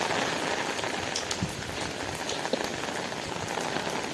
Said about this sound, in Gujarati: વરસાદ પડે છે ને એટલે